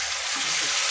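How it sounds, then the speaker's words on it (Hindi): Cumin seeds crackle in hot oil in a dense, even, close-up hiss that stays loud and unbroken for the whole second. "देखिए जीरा तड़क गया है।"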